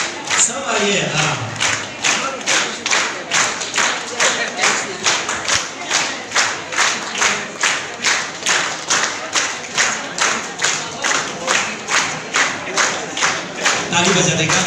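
Rhythmic, steady group clapping from an audience at a Mother's Day church program in Yupia, evenly paced claps continuing for a long stretch with faint voices beneath.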